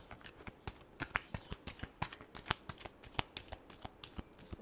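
Tarot cards being shuffled by hand, a rapid run of crisp riffling flicks and slaps repeating in quick irregular bursts, close and fairly quiet with no talking.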